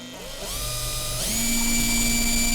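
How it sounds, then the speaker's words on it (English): A small power drill spins up to drill out the post on a Hot Wheels die-cast car, its motor whine rising in pitch and then holding a steady, loud high-speed drone. "We just drill it out."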